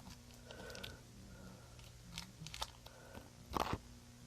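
Close, quiet crunching and chewing of milk chocolate from an Easter basket, a few soft bites building to a sharper crunch near the end, against a faint background hum.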